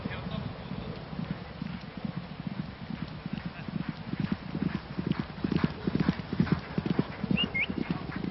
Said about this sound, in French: Ici, Allez France, lors de son galop d'entraînement, mardi dernier, sur les 1400 mètres de la piste des réservoirs